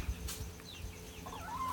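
Chickens cluck softly in a backyard coop, with a few quiet, scattered calls and a rising squawk near the end over faint background sound.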